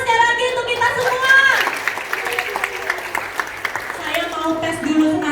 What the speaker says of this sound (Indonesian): Tepuk tangan sekali lagi untuk kita semua